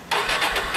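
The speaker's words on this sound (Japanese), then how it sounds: "エンジンを聞かせてもらえますか" A 2006 Ducati Multistrada 620 V-twin motorcycle engine catches and starts up abruptly, then holds a loud, rough idle for a brief moment, close by.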